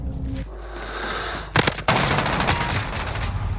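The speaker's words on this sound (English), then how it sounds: "3 shotgun shots." Three loud, sharp shotgun blasts in a video game, fired in quick succession at close range, followed by a rattling burst of gunfire against steady background noise.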